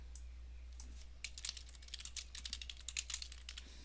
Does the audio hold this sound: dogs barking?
no